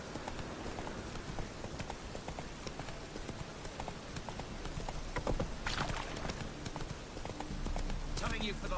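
Roach, Geralt's horse in The Witcher 3, gallops with rapid rhythmic hoofbeats throughout, steady and fairly loud, with a voice talking over the running hooves.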